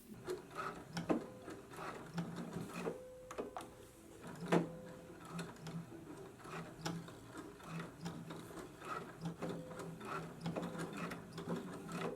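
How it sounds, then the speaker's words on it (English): A home sewing machine stitches to secure elastic along a dress sleeve, running in bursts of whirring and rattling stitches with brief pauses and small clicks between runs, close by. "So now I'm going to go to the machine and just secure the elastic."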